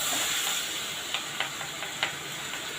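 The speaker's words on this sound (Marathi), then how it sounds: "आता इथे आपला कांदा आपला कांदा चांगला फ्राय होतो" Onion frying in a pan for a dhaba-style egg masala curry, a soft continuous sizzle with a few sharp spatters and light stirring taps, close and alone.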